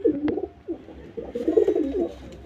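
Close, low cooing from a handled male white Jiriya pigeon comes in two bursts of throaty, warbling calls separated by a short lull.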